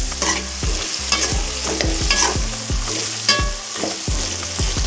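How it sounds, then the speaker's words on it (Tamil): Eggplant frying in hot oil in a village-style kitchen, a steady close sizzle broken by repeated scraping stirs of the spoon against the pan, roughly every half second, with no voices. "நல்லா வதங்கட்டும். கத்திரிக்காய் எண்ணெயிலே பொரியணும்."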